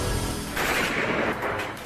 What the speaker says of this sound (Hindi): बंदूक मिली है तो निहत्थे लोगों पर गोली चलाने के लिए